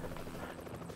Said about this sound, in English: Flying around in my helicopter.